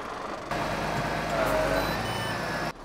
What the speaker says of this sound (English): Now when I open the bin lock, straight away I have a warning gone off.